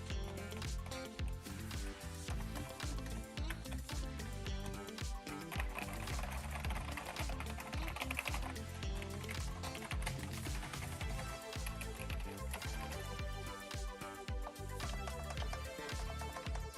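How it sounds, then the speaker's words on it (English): Steady, rapid clicking of keys on a Logitech MK540 full-size wireless scissor-switch keyboard, continuous for the whole stretch with no talking, close and moderately loud. "I will let you listen to the sound of the keyboard"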